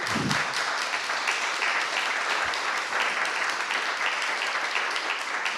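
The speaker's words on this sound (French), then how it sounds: "on vous applaudit" Sustained, dense applause from a seated audience at a meeting with a Paris municipal candidate, a close and steady roar of clapping with no break.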